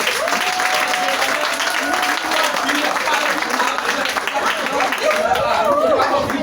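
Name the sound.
church congregation applauding and acclaiming Jesus Christ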